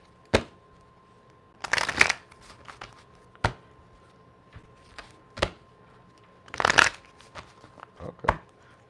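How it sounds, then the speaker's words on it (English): Quick bursts of playing cards being shuffled, two longer riffling flurries among several sharp single snaps, close and clear with quiet pauses between. "All right, quick shuffle."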